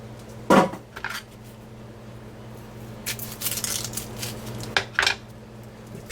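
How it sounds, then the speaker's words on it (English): A knife slices the two ends off an onion on a cutting board, giving a couple of sharp close clacks and crisp cuts with soft handling noise between them and no voices. "an onion and we are going to slice it. First we take off the two ends here."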